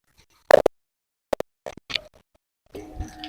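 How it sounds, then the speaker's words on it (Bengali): Water poured onto a potted aloe vera plant in a rooftop garden: a few short plops and splashes spaced apart, then a softer trickling patter at the end, close and otherwise quiet. "আর আমি এখন একটু জল দিয়ে দিচ্ছি, একটু সুন্দর করে জল দিয়ে দিলাম"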